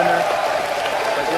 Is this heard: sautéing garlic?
no